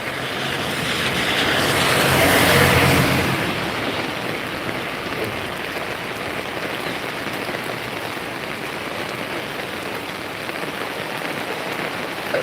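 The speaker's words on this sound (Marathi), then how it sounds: "पाऊस जोरात पडत आहे" Steady rain pours down in a dense, continuous hiss, with a passing vehicle swelling briefly near the start.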